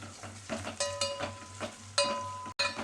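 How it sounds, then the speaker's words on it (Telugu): Onions frying in a pan sizzle steadily, with stirring knocks and scrapes of a utensil against the pan every half second or so, close by. "చూడండి, ఫ్రై అవుతున్నాయి కదా ఎర్రగడ్డలు."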